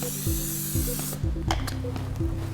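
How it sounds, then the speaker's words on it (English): A close, loud aerosol hiss of cooking spray into a cake mold lasts about a second, followed by a few light clanks and taps over a low hum. "I'm just gonna put some spray in"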